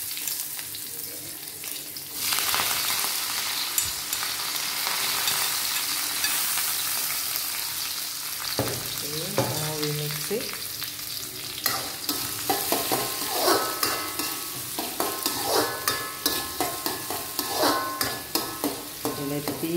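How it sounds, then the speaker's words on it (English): Onions, curry leaves and dry chili frying in a pan for radish and carrot sambar, a constant loud sizzle with stirring scrapes and clatters growing more frequent toward the end. "Then I put the onions, the curry leaves and the dry chili inside it."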